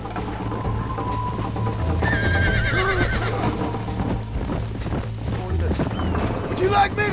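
Horse hooves clip-clopping at a gallop in Red Dead Redemption, with a loud whinny near the end, under game music and in-game dialogue.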